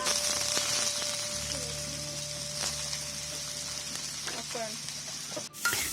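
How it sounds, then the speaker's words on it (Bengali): Chopped onions and bay leaves fry in oil in a pan for a village-style beef curry, a continuous close sizzle with occasional stirring scrapes and no talking. "পেঁয়াজগুলো ভালো করে ভাজতে হবে"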